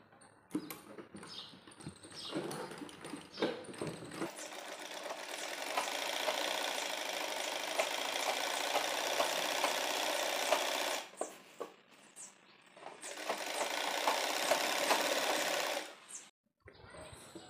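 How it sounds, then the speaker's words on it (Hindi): Sewing machine stitching cloth panels for a petticoat, running in two long steady whirring stretches with short pauses and handling noise between them, close and alone. "इस तरह से सिलाई करते हुए सीधी सिलाई कर लेंगे।"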